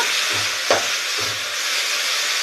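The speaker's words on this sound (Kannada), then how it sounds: "ಈಗ ಉಪ್ಪು ಹಾಕ್ತಾಯಿದ್ದೀನಿ, ಫ್ರೈ ಮಾಡ್ಕೊಳ್ಳೋಣ." Spices frying in oil for sambar, a steady sizzle with a few scraping stirs of a spoon in the pan, close and alone.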